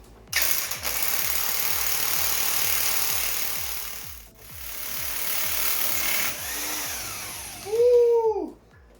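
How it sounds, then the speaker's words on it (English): A corded impact wrench rated at 400 foot-pounds hammers in a rapid, loud mechanical rattle for several seconds while working on a Mazdaspeed 3 engine, easing off briefly midway, then whirring down at the end. "a maximum corded impact, because I typically don't do high torque things too often like this. So this is rated for 400 foot-pounds"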